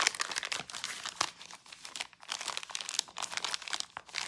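Plastic packaging from a planner supply haul crinkles and crackles continuously up close as it is handled and opened, with bursts of sharper rustling throughout.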